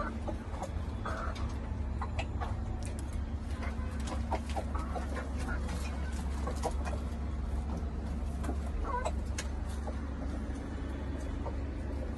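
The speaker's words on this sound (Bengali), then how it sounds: "খাবার দাবার দেওয়া শেষ তো সবগুলো কবুতর হচ্ছে রেস্ট নিতেছে" Pigeons resting in a home loft after feeding, with soft continuous cooing and scattered small wing flutters and scratches over a steady low background hum.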